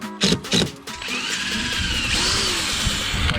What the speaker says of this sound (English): Get your pre-drill.